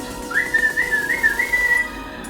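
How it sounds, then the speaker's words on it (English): Someone whistles the Raiders of the Lost Ark theme, a clear, steady melodic line lasting about a second and a half over a quiet indoor background, with no talking. "You whistle? What's that? Raiders of the Lost Ark for 21 additional seconds."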